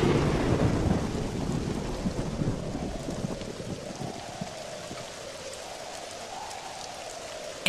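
Heavy rain pours steadily during a thunderstorm in an animated folk story, with a deep rumble of thunder rolling loudly at the start and fading into a constant close wash of rainfall.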